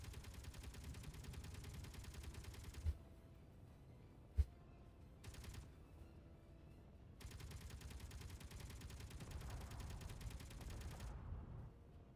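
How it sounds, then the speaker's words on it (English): Sustained gunfire in the space-building game Space Engineers, a dense rapid rattle of shots that stops abruptly, leaves a quieter gap broken by a couple of sharp cracks, then resumes before fading out. "Oh, there's gunfire."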